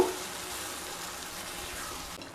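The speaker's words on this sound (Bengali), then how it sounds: "এবার মশলা ধোয়া জল দিয়ে দেব।" Spice-rinsing water poured into a pan of shrimp frying with bottle gourd leaves sets off a steady, loud hissing sizzle that runs without a break, then cuts off abruptly at the end.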